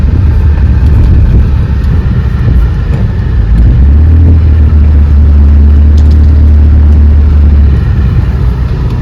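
A car driving through Sydney's eastern suburbs on a sunny day, heard from inside as a loud continuous road rumble and engine drone with a deeper steady hum partway through.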